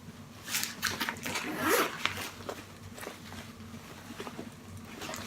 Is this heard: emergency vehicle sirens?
no